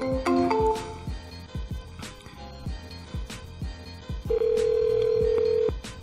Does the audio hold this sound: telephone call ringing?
yes